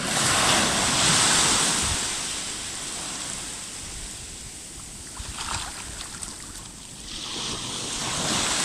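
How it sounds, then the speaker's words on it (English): Ocean waves washing in on the Kinlochbervie shore on a fine day, a loud continuous surf roar that swells, eases and builds again, with wind buffeting the microphone and no talk. "the tides come in since the very beginning of time. Each tide, each wave"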